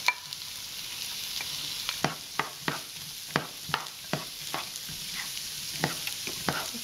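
Diced large onion stirred in a soup pot, with a steady low sizzle of frying under a run of sharp scraping and clacking strokes from the utensil, close and fairly loud, with no talking.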